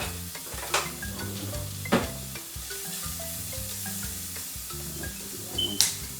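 Garlic sizzles and fries in bacon fat in a pan, a steady crackling hiss punctuated by a few sharp utensil clinks and taps, close-up with no voices.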